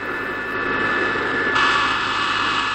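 Civil aircraft in flight, a steady roaring engine drone heard close and continuous, rising slightly in brightness halfway through.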